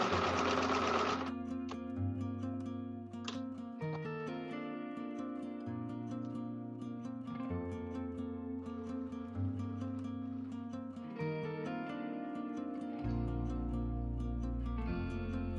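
A sewing machine stitches a homemade fabric face mask, its motor whirring in continuous runs with the needle's rapid mechanical clatter, close and steady, changing pace between bursts.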